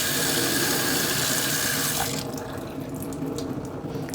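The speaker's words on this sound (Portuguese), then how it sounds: "Enchi de água, uma boa torneirada." Tap water gushes into a Catasetum orchid pot in a steady, close rush for about two seconds, then settles into a softer trickle.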